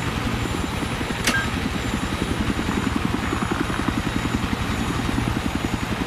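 An enemy helicopter in a video game thunders close by with a steady, rapid rotor chop and engine drone. A brief high chirp rises over it near the start.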